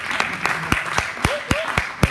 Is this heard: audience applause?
yes